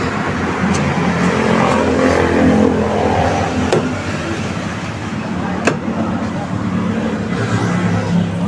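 A Toyota Corolla 2E engine idles after a cold start with a steady, rough rumble, a few sharp clicks and taps over it, no voices.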